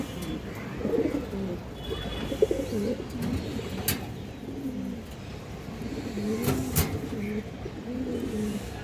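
A large Bagha female pigeon coos in repeated low, throaty bursts close by, with a vehicle engine rumbling faintly in the background.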